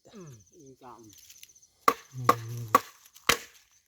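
Four sharp, loud cracks of a blade splitting bamboo at night, evenly spaced and close by, with insects chirping faintly in the background.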